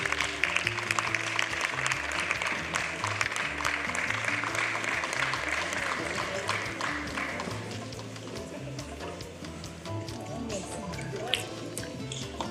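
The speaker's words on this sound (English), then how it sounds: "A round of applause for him, please." Audience at a live event claps in dense, sustained applause, loud and continuous throughout, gradually thinning a little toward the end with no speech over it.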